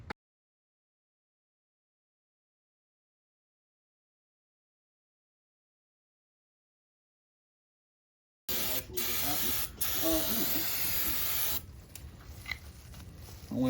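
An aerosol can sprays onto a car flywheel during a Ford Focus ZX3 engine swap, a loud close hiss starting abruptly after long silence, with brief breaks and clicks.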